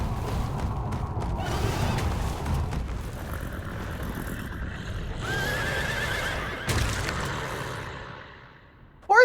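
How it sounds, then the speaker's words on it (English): Horse neighs and whinnies in the video game Little Goody Two Shoes, a fairly loud, drawn-out call over hoof clip-clops and a low ambient backdrop, ending with a sudden sharp sound. "Horsey!"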